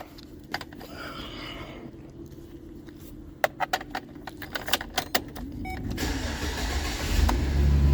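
A GM truck engine with an oil leak at the filter adaptor cranks with clicking and rattling, then catches and settles into a steady low rumble, heard up close with no talking.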